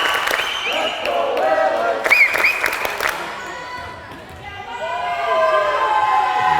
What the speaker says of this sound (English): Active crowd here in front of us, cheering on their Whalers